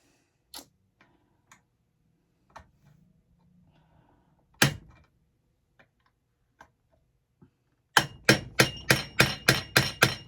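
An old Sears Craftsman hammer taps on copper heatsinks in scattered single strikes, then a rapid run of about eight sharp, ringing metallic hits close up at the end.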